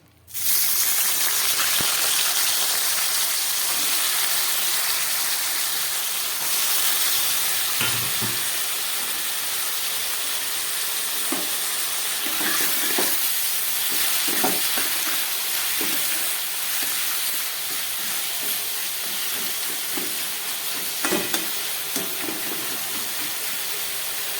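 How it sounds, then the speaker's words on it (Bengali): Oyster mushrooms fry in hot oil in a Bengali-style dish, giving a steady, bright sizzle that stays even for the whole stretch, with occasional soft clicks and scrapes of stirring and no talking. "এবার এই তেলের মধ্যে আমি মাশরুমটাকেও ভেজে নিচ্ছি।"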